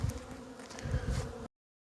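Honeybees buzz steadily up close around a hive on an early spring cleansing flight for about a second and a half, a dense droning hum that cuts off abruptly.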